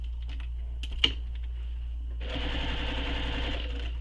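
A few sparse clicks and a sharp tap come first, then a sewing machine stitching a backpack starts up in a steady rapid run, close and clear over a low constant hum, with no talking.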